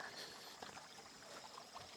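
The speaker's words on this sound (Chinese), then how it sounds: "这边的溪水声比较大" A mountain-valley stream in rural Hunan runs and trickles in a steady, faint wash of water noise, heard alone without talk.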